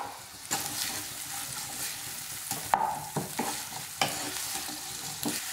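Thinly sliced onions with salt fry in hot oil in a kadai, a soft continuous sizzle punctuated by several scraping stirs and spoon knocks, faint and close with no voices.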